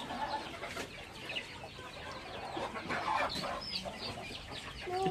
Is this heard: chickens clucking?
yes